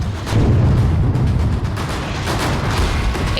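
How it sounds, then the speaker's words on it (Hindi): A controlled blast demolishes a militant's house in Pulwama's Muran area of Jammu and Kashmir, a heavy, loud boom followed by rumbling debris and crackling that fades over a few seconds. "देखिए 5, 4, 3, 2, 1 और जोरदार ब्लास्ट।"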